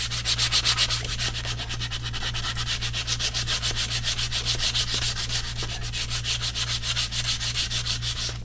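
Sandpaper rubbed by hand over wood for a farmhouse-style porch shelf, a steady run of rapid back-and-forth scratching strokes, close and fairly loud, with a low constant hum beneath and no voices.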